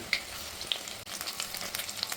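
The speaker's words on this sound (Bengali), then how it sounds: "এবার ওর মধ্যে একটা একটা করে মাশরুমগুলোকে ছেড়ে দিচ্ছি" Mushrooms dropped one by one into hot refined oil in a wok give a steady close sizzle with a few sharp pops, and no voices.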